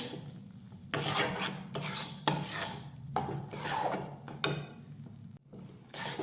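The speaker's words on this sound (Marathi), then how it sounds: "सुरुवातीला हे गव्हाचं पीठ चमच्याला थोडंसं जड लागेल पण आपण जसं जसं भाजू तसं तसं ते हलकं होईल" A spoon stirs wheat flour roasting in a pan for modak, giving close scraping, rasping sweeps in several long strokes over a steady low hum, with no talking.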